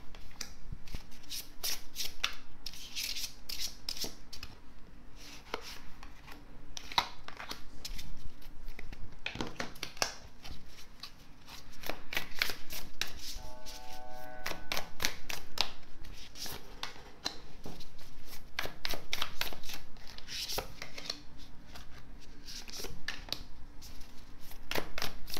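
Tarot cards shuffled by hand, a long run of rapid riffling and crisp flicking snaps with brief pauses between bursts, close and clear with no voices.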